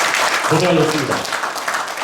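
An audience claps at the close of a Buddhist forum, a broad wash of many hands heard together with a voice speaking over it briefly.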